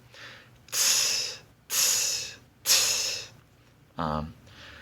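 Three beatboxed open hi-hat sounds, each a long breathy hiss of air pushed past the tongue, are followed by a shorter voiced puff. The voice imitates a cymbal, and the sounds are close and fairly loud, with no talking.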